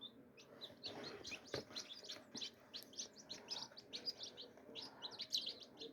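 Newly hatched baby chicks in an incubator peeping in a busy cluster of quick high chirps, overlapping and continuous at close range, fairly soft overall with no talking.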